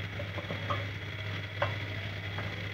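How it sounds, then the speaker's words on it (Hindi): Potato pieces fry in a pan with onion for aloo palak, a steady soft sizzle with a low hum beneath and a few light scrapes and clinks of stirring. "अब हमने इसके पीसेस कर लिए आलू के, और अब हम इसके अंदर भूनेंगे।"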